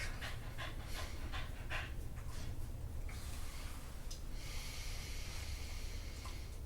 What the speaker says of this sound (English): Apologize for all the panting in case you just came back from a walk.